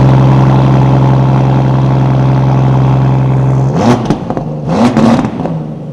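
Brabus Bodo with a 5.2-litre biturbo V12 and in-house Brabus exhaust holds a loud steady idle, then barks through two or three sharp throttle blips that flare and fall back, close and with no talk.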